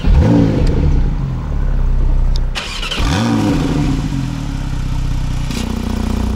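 A Porsche 911 991.2 GTS flat-six fires up with a loud starter crank and bark, settles briefly, then is revved twice more in sharp rising blips before holding a steady, close idle.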